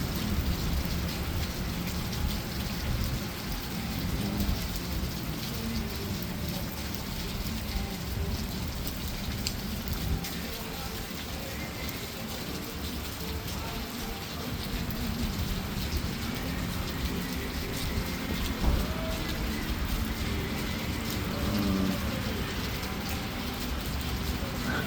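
Heavy rain pours steadily during a storm in Memphis, a dense, continuous hiss of drops on surfaces that holds for the whole stretch, with no voices over it.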